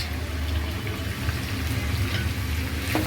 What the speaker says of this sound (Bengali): এবার এগুলোকে আমি ভেজে নেব